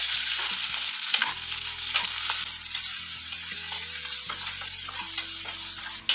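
Urad dal, garlic, curry leaves and turmeric frying in hot oil for papaya thoran, a steady close sizzle with occasional scrapes and stirs of a spoon in the pan, no voices.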